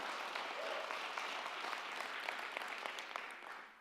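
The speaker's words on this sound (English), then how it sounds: "So we should all give applause." Steady applause from an audience at a talk on chronic pain, a dense even wash of many hands clapping alone for several seconds, tapering slightly at the end.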